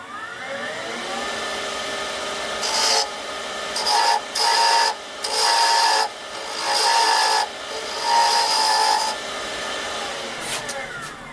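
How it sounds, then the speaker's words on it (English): A wooden surfcasting lure spins on a lathe with a steady motor whir while a carving tool bites in repeatedly, giving several rasping, scraping bursts of a second or two each over the hum. No one speaks. "we'll just carve this out a little bit"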